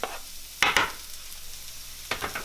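Garlic added to two frying pans sizzles in two short bursts, a loud crackling hiss near the start and a quieter one near the end, with low kitchen hum between and no talk.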